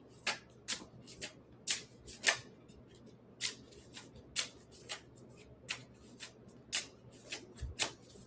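Cards being handled for a card reading: a quick series of crisp, close flicks and riffles, with short slaps and slides as cards are drawn, in an irregular rhythm against a quiet room and no talking.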